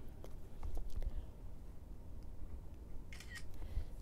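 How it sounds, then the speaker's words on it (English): An iPhone camera shutter fires while taking a quick selfie on an iPhone with two screens. A couple of soft, brief clicks stand out over faint room noise, with no talking. "Let's just take a quick selfie."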